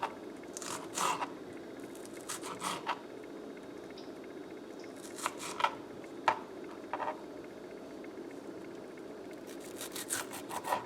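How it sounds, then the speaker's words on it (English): A knife cuts vegetables small on a board for Blove's sauce mix, producing short clusters of crisp chopping and scraping taps separated by quiet gaps, close and fairly soft. "I am cutting these smaller than I did the onion."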